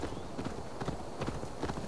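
Horse galloping in the video game Assassin's Creed Valhalla, a steady, rhythmic drum of hoofbeats running continuously at an even volume.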